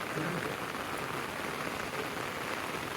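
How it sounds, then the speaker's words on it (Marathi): Heavy rain pours steadily in a Konkan village jungle, a dense, even hiss of drops on surfaces that holds constant and close throughout, with no voices. "पाऊसच भरपूर लागतोय ना पाऊस तो जरा भारी वाहतोय"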